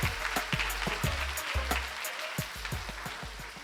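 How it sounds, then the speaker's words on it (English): Audience applause at a corporate awards ceremony honoring deal closers, with scattered sharp claps over a steady low rumble, loud and close, continuing without pause. "Let's give her a round of applause"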